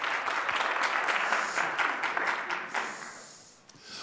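Audience applause at an annual school auction evening, a dense, bright clatter of many hands that holds steady and then thins out over a few seconds.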